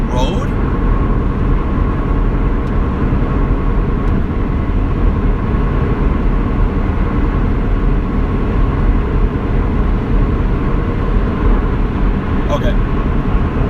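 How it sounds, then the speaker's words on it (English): Loud, constant road noise inside a moving Lexus IS300, a dense low rumble and tire roar that fills the cabin without letup, with a faint click or two over it. "It's crazy how loud this fucking road is."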